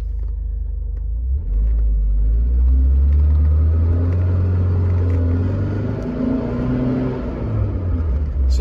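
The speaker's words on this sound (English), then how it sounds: "This is 1987 Alpha Spider driving video, starting off in first gear." A 1987 Alfa Romeo Spider Quadrifoglio pulls away in first gear, its engine a loud, close, low rumble that rises and swells steadily through the run, with road and cabin noise and no talking.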